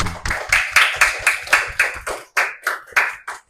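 Students in a classroom clapping for a presenting group, about a dozen separate sharp claps in a loose, slightly uneven rhythm with brief gaps between some of them, close and fairly loud, with no talk.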